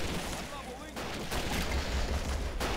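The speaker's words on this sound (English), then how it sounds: "Oh, no, it's a howitzer." Artillery fire from a howitzer in the Vietnam war video game Men of War Vietnam, heard as dense, continuous booming blasts with layered gunfire, under a voice talking.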